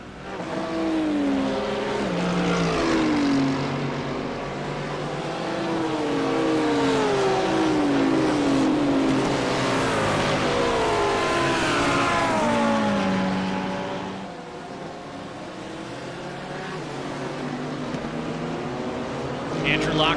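GT3 race cars lapping the Hungaroring in a racing game, several engines whining and sweeping up and down in pitch as they pass through the corners, loud and continuous under steady commentary.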